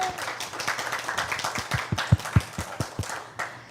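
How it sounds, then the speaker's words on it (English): A small gathering claps for a guest at the end of an evening talk on banking and retirement investing, a short burst of close, uneven hand claps that thins out within a few seconds. "Let's give Josh a big round of applause."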